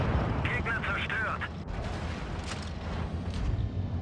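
An 88 mm tank gun in a tank video game fires with a heavy, booming blast, loud and close, mixed with rumbling engine and battle noise while a voice talks briefly over it.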